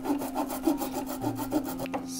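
A thin-bladed hand saw cuts through a flower branch for an ikebana arrangement, giving steady rasping back-and-forth strokes, close and moderately loud, with no talking.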